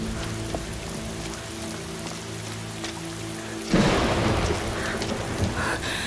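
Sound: rain and thunder, thunderstorm

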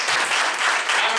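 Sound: audience applause in a church

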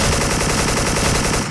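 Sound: M4 rifle gunfire in the video game Special Force

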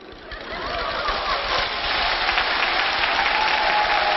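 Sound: audience applause

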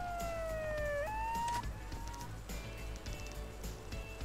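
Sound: police siren in video game Yakuza 0

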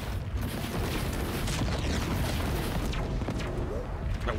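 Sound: spaceship weapons firing, from the video game Chorus

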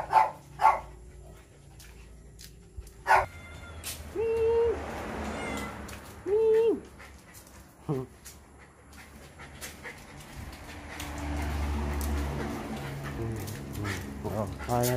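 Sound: cat meowing with dog nearby

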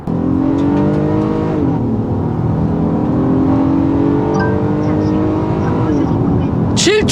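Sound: Honda Odyssey 3.5 gasoline minivan engine noise while accelerating

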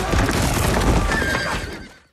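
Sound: horses neighing and hoofbeats in film battle charge

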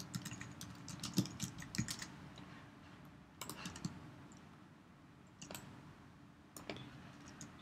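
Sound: typing on a computer keyboard

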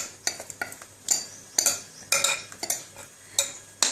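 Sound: stirring pearl millet flour mixture in a pot

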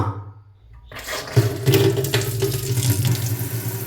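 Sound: water running from a tap

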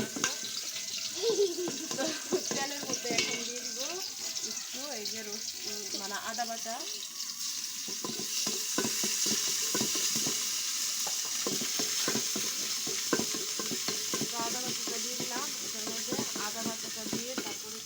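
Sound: pulao being stirred in a pot on a village clay stove

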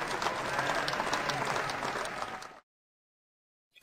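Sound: children clapping their hands

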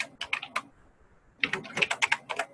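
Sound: typing on a computer keyboard

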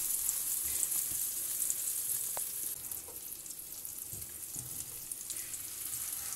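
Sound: sandwich frying in butter in a pan

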